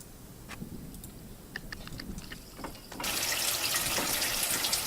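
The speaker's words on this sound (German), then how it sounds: "Dieser Hahn scheint zu funktionieren. Er könnte sich jetzt nützlich erweisen, falls ich Wasser brauche." Tap in the adventure game Still Life 2 turned on, a steady hiss of running water starting abruptly partway through after a few soft clicks and knocks, close and fairly loud.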